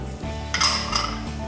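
Grated carrot cooks with sweetened condensed milk in a pan for laddu, a spoon clanking and scraping against the metal in a short close burst.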